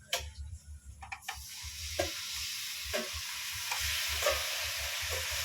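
Marinated pork sizzles and fries steadily in a hot pan, with a continuous crackling hiss broken by a few sharp stirring clicks and scrapes.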